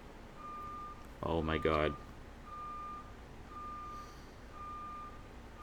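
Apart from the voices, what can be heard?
cherry picker crane beeping as it moves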